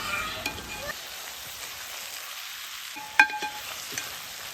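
A biryani masala topped with chopped coriander and mint leaves is stirred in a pot, giving a soft, steady sizzle with faint scraping and one brief clink of a spoon against metal, close and fairly quiet.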